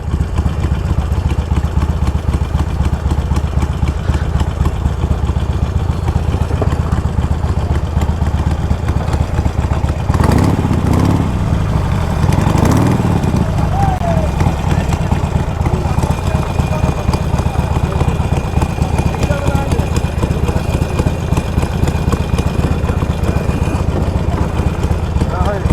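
Motorcycle engine idling near a ferry landing on a long Kolkata to Jaipur bike trip: a loud, close, steady mid-pitched putter with mechanical clatter, persisting throughout, with a brief louder surge midway and voices talking over it.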